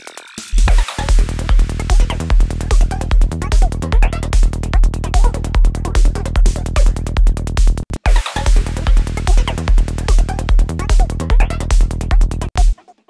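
Gated sample in Ableton Live layered with a kick drum and bass, a loud looping dance groove with steady four-on-the-floor thumps under choppy gated texture, repeating in two nearly identical passes.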